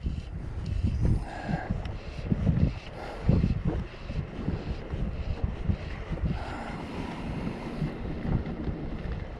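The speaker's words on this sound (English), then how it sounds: "But that wind got really wild there over on the opposite shore." Strong wind gusts roar across the Loch of Boardhouse in Orkney, buffeting the microphone with loud, continuous rumbling and no voices.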